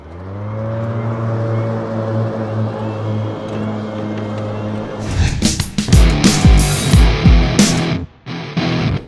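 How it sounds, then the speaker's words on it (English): An EGO Z6 all-electric zero-turn riding lawn mower with a 52-inch deck and 56-volt battery runs with a steady electric hum, then breaks into loud, uneven rushing and thumping bursts close by. "this is an all-electric zero-turn mower"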